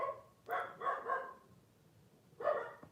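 Dogs barking at a UPS delivery truck outside the door, a quick run of three sharp barks followed by a pause and then another bark, moderately close inside a quiet room.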